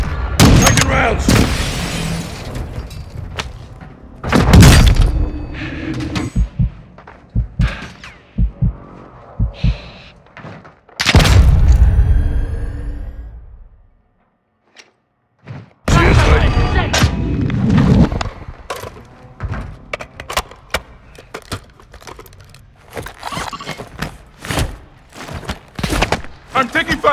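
Gunfire and explosions in the video game Call of Duty: Warzone 2.0, loud bursts of shots and deep blasts breaking out in clusters, a brief silent gap mid-way, with voices speaking between the bursts.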